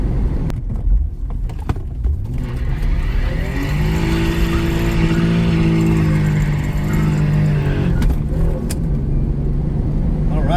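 A Lexus SC300 peels out in second gear, its engine revving hard with a rising, sustained roar that stays loud and close for several seconds before easing off.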